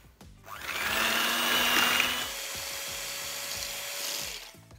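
An electric mixer beats melted butter with sugar for cupcake batter, giving a steady, close motor whir that spins up, holds for about four seconds, then winds down.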